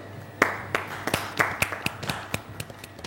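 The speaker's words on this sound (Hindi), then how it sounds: "बहुत सारी तालियाँ" A small audience at a stage show gives a sparse welcome for a woman being called up, with a dozen or so scattered, uneven hand claps rather than a full ovation.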